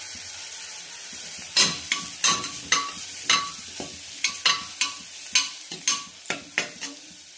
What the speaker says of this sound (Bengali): আর এখন আমি দিয়ে দিব আদা কুচি, 1/2 চামচ আদা কুচি।